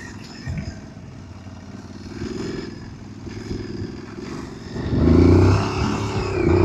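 A motorcycle in first gear labors up a rocky serpentine road, its engine droning steadily with gravelly clatter beneath, then swelling louder as the throttle opens near the end.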